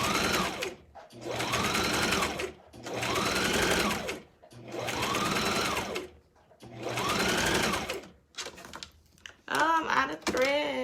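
A sewing machine stitching wig wefts runs in four long, steady bursts separated by brief pauses, loud and close, with a rapid mechanical whir, followed by a short stretch of talking at the end.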